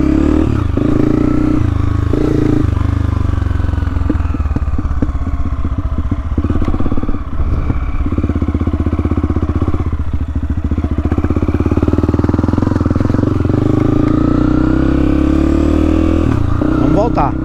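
A dirt motorcycle rides a coastal trail near ruins and beach cliffs, its engine droning loud and steady throughout with rattling and shifting revs, while a rider talks over it.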